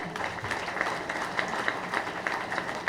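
An audience at a student motivational speech applauds with steady, dense clapping, some sharper claps standing out, heard from a distance with an even crowd wash.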